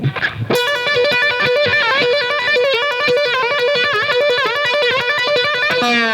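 Electric guitar with whammy bar, univibe and fuzz plays a fast, loud trill alternating between two notes, the pitch wobbling and bending, ending in a dive.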